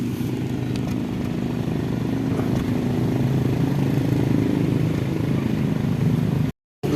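A Nissan Sentra B14 engine idling with its exhaust audible, a steady low rumble held evenly close by, cutting out briefly near the end.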